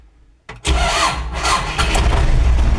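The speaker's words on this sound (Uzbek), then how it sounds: "bitta kalitga yangi traktor ham o't olmasa kerak" A 1990 Belarus 82.1 tractor's engine catches after a short crank, then settles into a loud, steady mid-pitched diesel idle that fills the rest of the moment.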